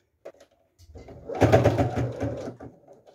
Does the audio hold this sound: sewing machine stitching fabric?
yes